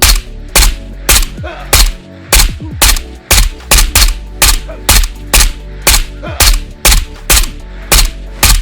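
Loud, close gunfire from shooting at bosses in the game Ghost of Tabor, a string of sharp, evenly spaced single shots, roughly two per second, with no talking.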